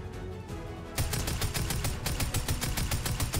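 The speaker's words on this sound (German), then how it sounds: "Schieß die Tür einfach weg." Rapid automatic gunfire in Fortnite, shooting at a door: about a second of quieter game ambience, then a loud, steady string of sharp shots in even, quick rhythm that runs to the end.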